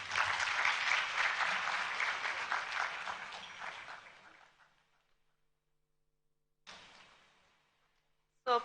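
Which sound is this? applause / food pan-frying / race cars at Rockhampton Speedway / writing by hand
applause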